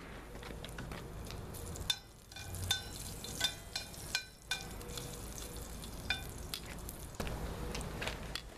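Sliced garlic clove sizzling steadily in a frying pan, a continuous close crackle broken by a few louder stirring scrapes and pops.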